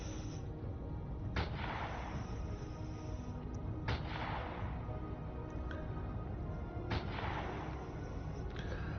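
Gunfire in the space survival game Empyrion, with three sharp, loud shots spaced a few seconds apart, each trailing a short echo over a constant rumbling background.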